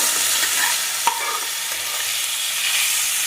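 Soaked moong dal sautéed in a pan, a dense, continuous hiss of frying with a single sharp tap of a spoon early on, close and fairly loud, no voices.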